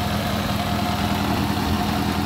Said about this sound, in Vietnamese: Đây, máy nổ cực êm luôn này.